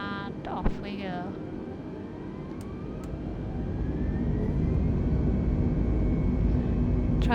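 An Airbus A320neo in Microsoft Flight Simulator begins its takeoff roll, engine roar building gradually into a loud, steady rumble after a few brief clicks and tones at the start.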